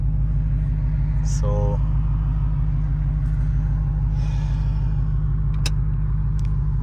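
A Dodge Challenger with a Vicrez wide body kit and Vicrez hood idles with a deep, steady, loud exhaust rumble, a brief air-brake-like hiss and a few clicks over it; one word is spoken.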